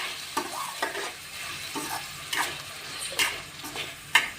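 Chopped tomatoes fry in a pan for mushroom masala curry, giving a soft continuous sizzle with repeated spoon scrapes and stirring clatter at close range and no talking.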